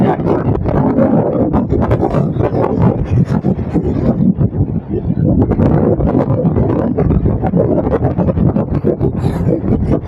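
Rough sea at Mathagal with heavy waves and strong wind, a loud, dense roar of surf and gusts buffeting the microphone, continuous throughout with no clear speech.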